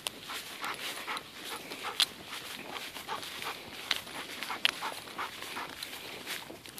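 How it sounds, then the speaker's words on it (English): A big dog pants steadily and rapidly up close while on a walking fetch outdoors, a continuous breathy rhythm with a few faint whimpers and small clicks and no talk over it. "Look at that big dog."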